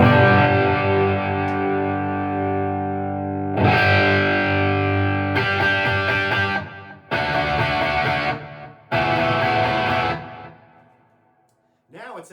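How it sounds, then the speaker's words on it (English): Electric guitar chord strummed through a Friedman Naked overdrive pedal with the presence control raised, heard as several loud distorted strums with sustained ringing, separated by brief gaps, no talk over it. "I'm just gonna strum a chord and you're gonna hear the presence value change."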